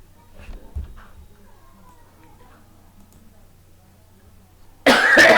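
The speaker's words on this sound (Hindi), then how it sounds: "खांसी हो गई" A cough from a man teaching a Hindi lesson on the Indian constitution, a loud sudden burst at the very end after a quiet stretch with faint sounds.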